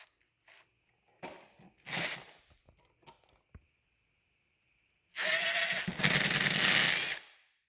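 A power drill backs screws out of an electrical outlet in a garage. It gives several short whirring bursts with quiet gaps between them, then a longer, louder whine of the motor near the end.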